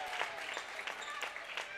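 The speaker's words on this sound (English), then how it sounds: "Got a nice round of applause from the fans sitting around me." Fans at a high school girls' basketball game applaud after a three-pointer, a steady patter of clapping under an announcer's talk.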